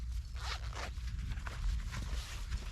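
A zip pocket on a cheap ultralight backpack's shoulder strap is zipped in several quick rasping pulls, close and crisp with no talking.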